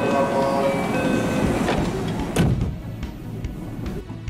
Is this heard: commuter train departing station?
yes